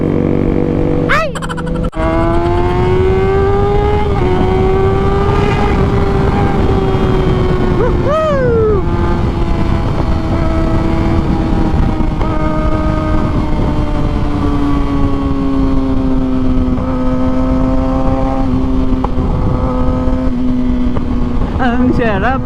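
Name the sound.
riding a motorcycle on a wet road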